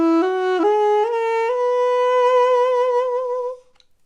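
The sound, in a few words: Armenian duduk playing a full octave major scale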